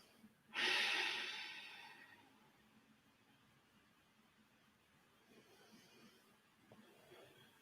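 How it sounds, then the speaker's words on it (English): A deep inhale rushes in loudly and close during a yoga pose, then a long, soft, airy exhale tapers off into near silence. "Nice deep inhale and exhale."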